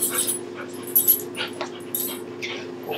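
A puppy whimpers in soft, high-pitched bursts, several brief whines and yips spaced unevenly over a faint steady hum.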